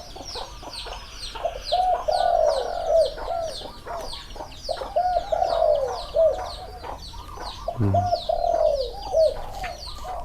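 Soft spotted dove cooing phrases repeat every few seconds amid steady chirping of other birds, with a brief low thump near the end.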